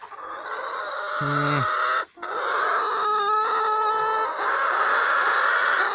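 Young laying hens cluck and call at a Thai mixed farm garden beside a pond, several birds close by in a steady outdoor din, with a brief louder call and one short pause.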